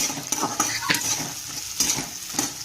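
Curry leaves crackle and sizzle in hot oil for kande pohe, a steady close frying hiss punctuated by repeated sharp bursts and utensil scrapes against the pan.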